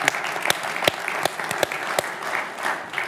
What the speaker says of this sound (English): it deserves a round of applause from this audience.